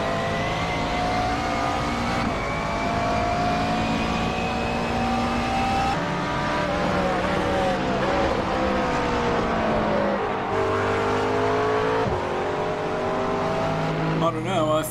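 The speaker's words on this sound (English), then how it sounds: "The sounds of the engines are just so authentic." McLaren race car in a driving game at Oulton Park circuit: a loud, sustained engine whine climbing through gears with sharp shifts and falling pitch on lifts, constant and close, with someone talking over it.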